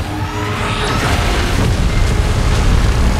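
A loud, sustained booming roar fills the whole stretch as Godzilla fires a beam during a PUBG game, deep and rumbling with a dense noisy wash layered on top.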